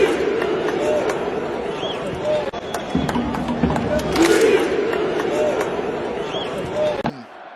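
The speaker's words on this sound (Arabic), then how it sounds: "اسمع الجمهور، اسمع الصدى، اسمع." A football stadium crowd at a youth international match between Morocco and Algeria roars and chants continuously at high volume, with a steady dense wash of massed voices and a few louder swells.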